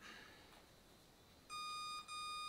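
A WLtoys 124008 RC buggy powers on with a sharp electronic beep: a half-second tone, a tiny gap, then a second tone, loud after a near-silent start.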